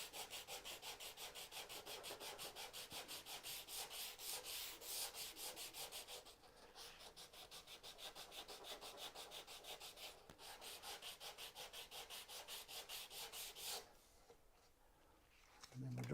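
Hand sanding of wood end grain with 100 grit sandpaper while building a dovetailed wall cabinet, a close rhythmic scratchy rasp in quick repeated strokes that pauses briefly twice before stopping.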